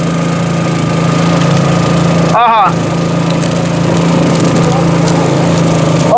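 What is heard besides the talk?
engine of a running motorized machine during a river crossing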